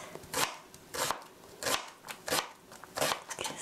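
A knife scoring food on a cutting board while making curry tteokbokki, a run of about six crisp rhythmic cuts roughly half a second apart, close and clear with no talk.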